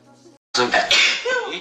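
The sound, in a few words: person coughing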